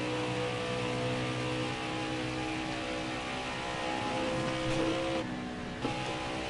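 Truck engines racing at Atlanta in a NASCAR truck series video game, a steady layered engine drone with a sharp brief change near the end, moderately quiet.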